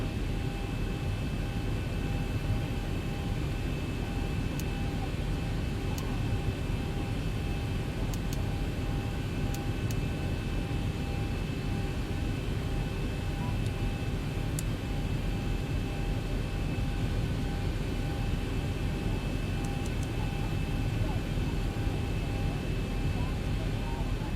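Boeing 737-800 jet in the X-Plane 12 flight simulator, a steady loud engine roar with a constant whine during the takeoff roll, joined by faint brief clicks, with no voices.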